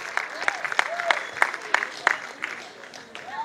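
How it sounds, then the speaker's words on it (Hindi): Applause from an audience at a contemporary Bharatnatyam fusion dance show comes as scattered, fairly light claps, a modest crowd clapping unevenly under a host's voice. "जोरदार तालियां हो जाए हमारे नेक्स्ट परफॉर्मेंस के लिए"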